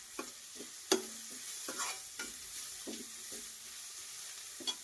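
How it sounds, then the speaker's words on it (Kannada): Vegetables stir-fry in a pan for veg fried rice. A soft, continuous sizzle runs close by, broken by irregular scraping stirs, with no voices. "ಸೊ ಈಗೆಲ್ಲ ವೆಜಿಟೇಬಲ್ ಫ್ರೈ ಆಗ್ಯಾವ."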